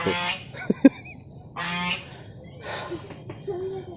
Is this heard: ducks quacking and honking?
yes